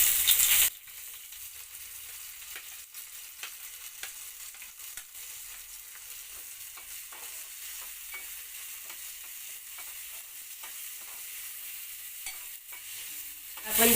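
Onion with ginger-garlic paste frying in a little ghee in a kadai, a continuous hissing sizzle with frequent light stirring scrapes, steady and fairly close.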